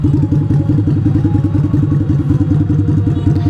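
A Harley-Davidson Street motorcycle engine with its stock exhaust, a loud, close, steady idle with an even, rapid low-pitched pulsing and faint mechanical clatter, heard alone without talk.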